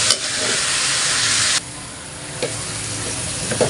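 Marinated chicken dropped into a hot pan with garlic and onion for chicken asado, a loud, dense sizzle that roars for over a second and then settles into a steady, quieter frying hiss.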